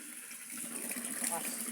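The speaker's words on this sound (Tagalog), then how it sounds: "Malakas ang tulo ng hose." Water from a garden hose flowing strongly, a steady close rushing hiss over a short stretch, with a voice speaking faintly underneath.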